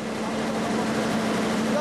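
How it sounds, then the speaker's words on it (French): A diesel engine drives a water pump in Egypt, running with a steady low hum and a constant broadband mechanical drone throughout, fairly loud and close, with no pauses. "Ces moteurs diesel sont très répandus en Égypte pour pomper l'eau."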